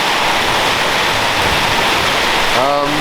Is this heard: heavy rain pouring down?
yes